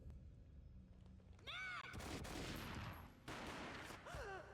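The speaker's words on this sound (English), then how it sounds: "A gunshot boomed and she fell down in slow motion." Gunfire in the Max Payne video game comes as sharp bursts and booms in two loud clusters, mixed with whooshing, falling-pitch effects.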